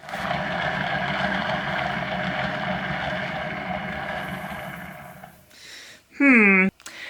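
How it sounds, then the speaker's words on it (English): Torch flame roaring steadily over poured acrylic paint on a tile, a continuous breathy hiss and rumble for several seconds, then it cuts out and a brief rising whistle-like tone follows. "Let's just give it a little torch."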